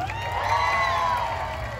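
A crowd in Sorsogon City cheers and applauds steadily, a dense wash of shouting and clapping with high, excited voices and children's shouts heard together in a live event space, without a break.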